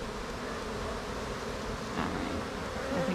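A large number of honey bees buzz in a steady, dense hum that continues throughout, close and moderately loud.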